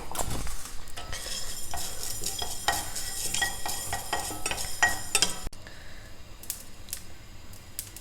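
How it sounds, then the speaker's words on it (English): Mustard and fenugreek seeds dry roasting in a pan without oil, popping and spluttering in sharp close crackles while a spoon stirs and scrapes against the metal, then quieter scattered pops. "see, even without oil the mustard is spluttering well"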